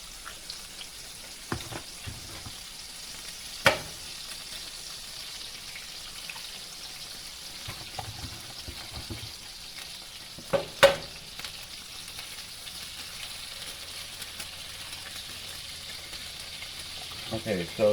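Eggs fry in a pan with butter and oil, a soft steady sizzle with a few sharp clicks and taps near the start and middle, a quiet and close sound.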